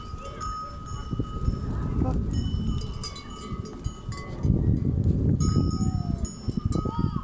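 A herd of goats wearing bells moves through Kayaşehir in Istanbul, with clinking bells and shuffling hooves close by that grow busier midway, while someone talks over them.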